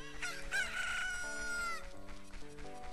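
Cucco chickens in The Legend of Zelda: Ocarina of Time crow in a long, loud game-audio rooster call, heard alone over steady background music.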